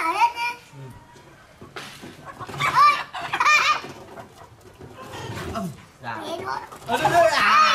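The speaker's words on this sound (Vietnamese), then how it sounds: "Con gà trống." A rooster and hens cluck close by in bursts across the whole stretch, mixed with frequent talking from a child and an adult.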